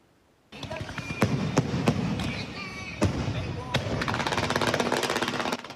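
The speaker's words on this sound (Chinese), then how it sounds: "烟火伫天顶散开，色彩真水。" Loud fireworks bursts at an evening temple fair in Taiwan, several sharp booms at irregular intervals, followed by rapid crackling, with crowd noise in the background.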